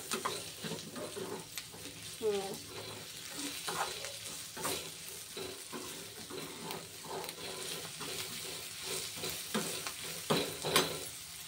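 Fenugreek seeds and chana dal frying in oil for tempering, a soft continuous sizzle with repeated close spoon scrapes and stirring in the pan, no talking.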